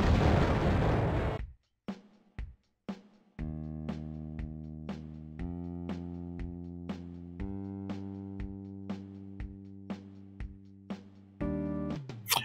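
Retro video game Raptor: Call of the Shadows, with a burst of noisy explosion followed by rapid, rhythmic machine gun fire and repeated sharp blasts over a tonal electronic soundtrack.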